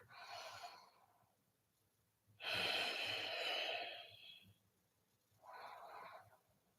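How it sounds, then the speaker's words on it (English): Long, deep breaths during kundalini yoga: a slow, airy exhale, a longer and stronger rushing breath, then a shorter one, close and alone with quiet pauses between them. "And long deep breathing just to warm up."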